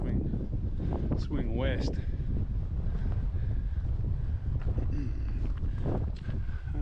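Wind gusts steadily into the microphone on a walk through Terrick Terrick National Park. The roar is constant across the whole span and a voice talks faintly under it.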